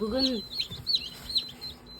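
Newly hatched chicks cheep in quick, high, thin bursts, several chirps overlapping close by in a quiet setting.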